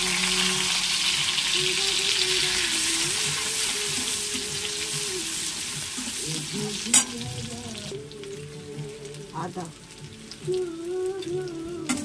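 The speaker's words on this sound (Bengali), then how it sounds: "শুকনো লঙ্কা ফোড়ন দিয়ে দিলাম, জিরে একটু দিয়ে দিলাম, পেঁয়াজ কুচি দিয়ে দিলাম" Dried chillies, cumin seeds and chopped onion hit hot oil after prawns were fried, giving a loud, steady sizzle and frying crackle throughout, with brief stirring clatters and spoon knocks near the end.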